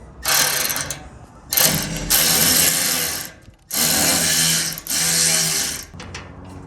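A ratchet on an extension tightens bolts on a Cybertruck sport rack, with bursts of rapid clicking in several strokes separated by brief pauses, close and loud.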